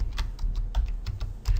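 Typing on a computer keyboard, a quick run of about a dozen close, crisp key clicks in an uneven rhythm, no voices.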